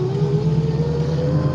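A 1969 Chevy Camaro Z/28 clone muscle car's V8 engine drones steadily under acceleration while driving, a loud continuous rumble with rising pitch heard from inside the car.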